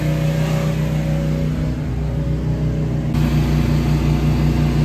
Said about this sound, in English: it's using the surface cleaner